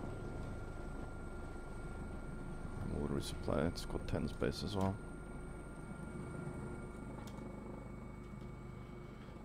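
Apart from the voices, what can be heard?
helicopter flying in the video game Squad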